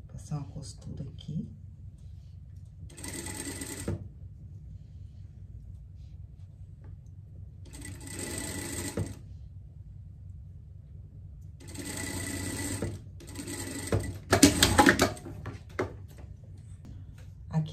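A sewing machine runs in several short bursts while stitching a pocket for a pet costume, with quiet pauses between runs and a louder burst near the end. Faint talk and handling sounds fill the gaps.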